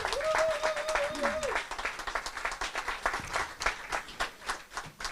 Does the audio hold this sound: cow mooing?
no